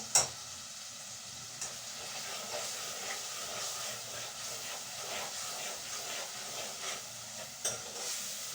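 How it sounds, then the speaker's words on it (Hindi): Food roasting and frying in a pan on a home stove, with a soft continuous sizzle and hiss, occasional stirring scrapes and a few sharper clicks, fairly quiet and with no talk. "ये थोड़ी सी इसकी भुनाई और हो जाए"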